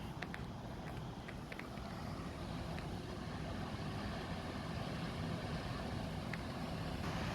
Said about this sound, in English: So like the wind has come back.